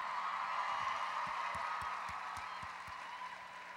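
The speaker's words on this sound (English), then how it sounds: "Another round of applause," Applause from a convention panel audience at Calgary Expo 2013, a steady, dense wash of many hands clapping that holds at a fairly even level and eases slightly toward the end.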